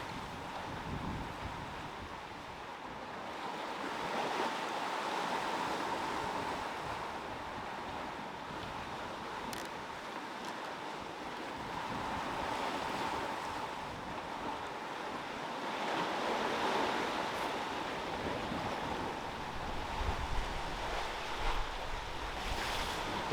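Sailboat running downwind through open sea, broad steady wash of waves and surf against the hull with gusting wind buffeting the microphone, continuous and moderately loud, no voices.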